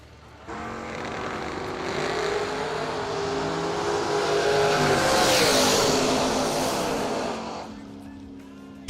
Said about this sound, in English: 67 Dodge Corvette in the left. 68 Chevy Camaro in the right.